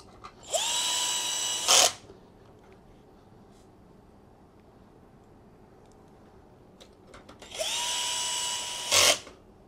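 A power drill driving screws into a frame during assembly, two loud bursts of motor whine with a rising pitch at the start of each, separated by a long quiet stretch, with no talk.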